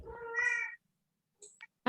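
A domestic cat meows indoors in a long, loud, drawn-out cry, followed after a pause by two short, fainter mews and the start of another call.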